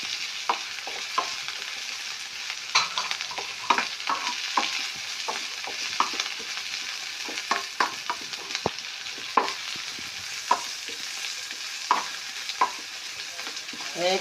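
Chopped vegetables and capsicum fry in a pan with a steady close sizzle, while a utensil stirs them in irregular scraping clicks and taps throughout.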